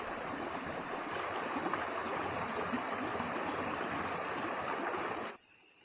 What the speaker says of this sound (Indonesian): Cerace atau air terjun dalam bahasa Indonesia.